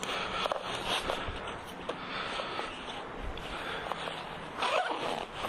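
Zipper being pulled closed on a portable amateur radio equipment bag packed for a SOTA activation, a close, scratchy zipping run with a few rustles and bumps, no talking.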